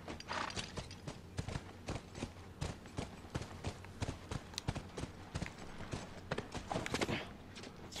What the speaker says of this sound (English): Let's back up this horse a bit.